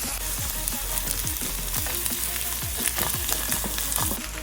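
Chopped coconut frying in a pan for a thattukada-style clam roast, a steady loud sizzle with repeated scraping stirs throughout, no voices.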